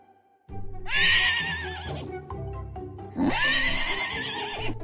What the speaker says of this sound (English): What about horse?